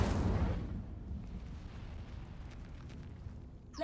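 A burst of magical fire from the Incendio spell in Hogwarts Legacy: a loud whooshing flare at the start that settles into a low rumbling roar fading over a few seconds, with no voices.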